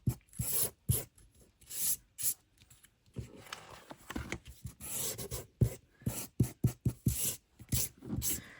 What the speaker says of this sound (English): I'm just going to sand down the crease as well.